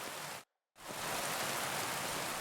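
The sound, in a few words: rain falling in Kingdom Come: Deliverance II video game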